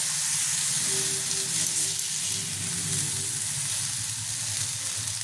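Pieces of fish tikka sizzle steadily in a hot pan, a bright continuous frying hiss close up with a faint low hum beneath and no talking.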